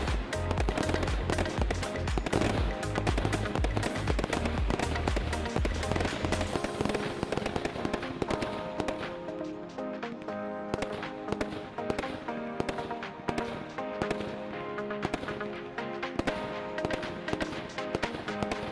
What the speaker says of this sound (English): finishing with Z firing, gold and blue brocades, and a fanned finale of chrysanthemum breaks